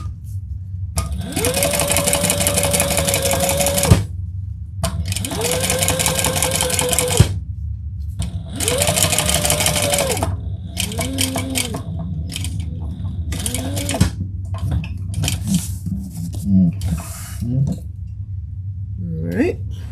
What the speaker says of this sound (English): let's turn and top stitch on the accent piece.